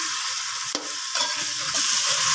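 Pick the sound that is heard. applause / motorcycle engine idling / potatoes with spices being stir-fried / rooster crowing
potatoes with spices being stir-fried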